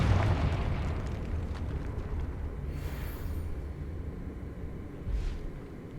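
Confringo blasting spell in Hogwarts Legacy, a deep rumbling blast at the start followed by a low sustained roar and a softer burst near the end.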